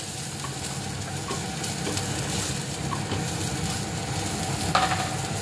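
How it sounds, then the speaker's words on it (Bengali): Dried red chillies and raw onion sizzle in hot tempering oil, a steady close frying hiss with occasional light stirring taps throughout. "ফোড়নে দিয়ে দিলাম শুকনো মরিচ, কাঁচা পেঁয়াজ"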